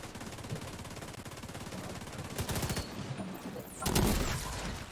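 Gunfire in The Division 2 during a hardcore co-op mission: rapid automatic bursts and volleys of shots, building into a louder fusillade near the end, with brief distant-sounding pops between.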